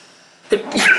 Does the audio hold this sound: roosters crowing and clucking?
no